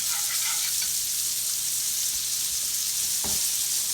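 Flour fries in hot oil to start a gravy for chicken fried steak, giving a dense, even sizzle up close, with a brief scrape or stir near the end.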